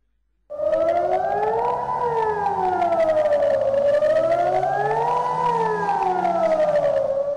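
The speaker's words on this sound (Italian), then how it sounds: "per fortuna si è trattato solo di una prova sirene" A loud civil defense siren test in Marghera, Venice, starts abruptly and wails steadily, its pitch rising and falling in slow sweeps.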